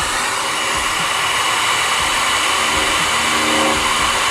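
Hot air plastic welding gun working on a cracked car bumper, a loud steady blowing whoosh like a hair dryer, constant and close throughout with no speech.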